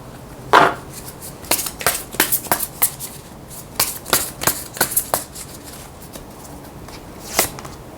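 Tarot cards being shuffled and handled during a reading, a string of short crisp riffling snaps and slaps in uneven bursts, close and fairly loud, with no talking.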